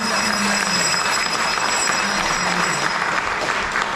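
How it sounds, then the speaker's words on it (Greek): An audience claps at a Christmas event in a cultural centre, with dense, continuous applause filling four seconds at a steady, fairly loud level and no speech over it. "να την χειροκροτήσουμε την κυρία Ροδόκλια."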